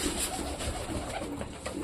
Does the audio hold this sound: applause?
no